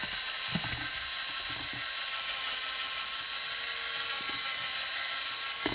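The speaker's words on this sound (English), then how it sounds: "we'll get my mix master called a drill. And we'll go ahead and drill this." A high-pitched electric drill mixing cake batter whines steadily and loudly, with faint knocks and rattles underneath; no one speaks.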